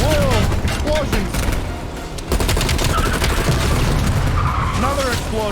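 Explosion and bursts of gunfire in the Call of Duty Black Ops Cold War game, a loud, chaotic mix of blasts, shots and screeching noise, with speech heard over the action.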